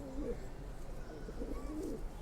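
Close, low cooing from a male red-pied pigeon in a home loft, two rolling bursts of throaty warble separated by a short lull.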